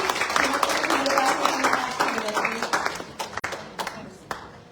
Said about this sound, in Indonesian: Tepuk tangan untuk Ibu Reti.